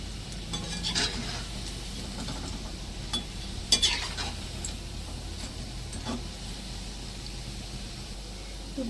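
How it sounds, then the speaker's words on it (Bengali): Gulab jamun made from semolina frying in a pan of oil, stirred slowly with a utensil: a steady soft sizzle runs throughout, with a few light scraping clinks against the pan and one sharper tap partway through. "তো গোলাপ জামুনগুলো আস্তে আস্তে আমি নেড়ে দেবো।"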